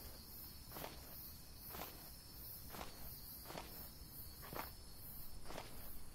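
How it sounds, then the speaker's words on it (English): Footsteps in the horror-tinged game Hungry Lamu, a steady series of about six soft, evenly spaced steps against a constant insect-like chirping ambience, faint and slightly distant, no talking. "I keep hearing footsteps to my left."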